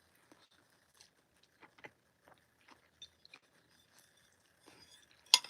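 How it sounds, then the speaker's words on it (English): Food is being chewed up close with sparse, soft wet bites and crunchy clicks spaced irregularly over quiet. A sharper louder crunch lands at the end, and there is no talk. "I don't like the sound of chewing."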